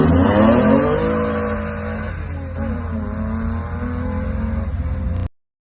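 A Scimitar car, noisy inside, drives along with a loud engine drone and road roar filling the cabin. The pitch falls after an early surge and then holds steady until an abrupt cut, with no talk.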